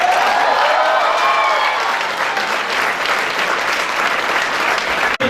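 An audience at an ASME student event claps for a student selected for a conference, loud sustained applause from a full room that holds steady and then stops abruptly at the end.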